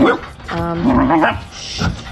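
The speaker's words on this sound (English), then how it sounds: "these are the neighbor's puppies, by the way" Young puppies next door at a home garden yip and whimper in short, high, wavering cries, fairly close and loud, with a brief pause between calls.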